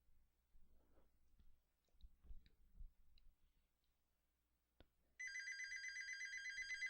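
A telephone rings loudly in the final seconds, as an electronic ringtone with a steady pulsing pattern, after some faint clicks and rustling near a gaming setup.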